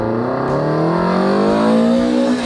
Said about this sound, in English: I just love how it screams.